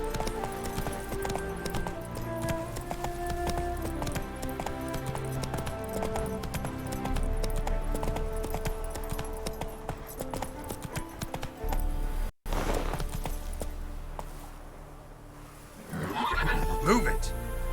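Roach the horse from The Witcher 3 gallops with rhythmic clip-clop hoofbeats under game music, then neighs near the end, while a voice speaks over the action.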